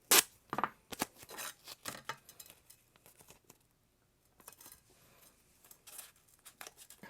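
Painter's tape is torn and pressed onto a glass Coleman lantern globe for masking, giving sharp close rips and crinkly bursts in an irregular sequence with short pauses between them.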